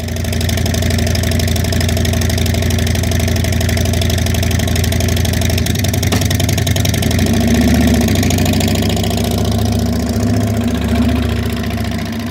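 A 2021 Harley-Davidson Fat Boy motorcycle engine runs loud and close, rumbling at a steady idle, then dropping in pitch and shifting to a lower, uneven throb partway through as it rolls around a neighborhood.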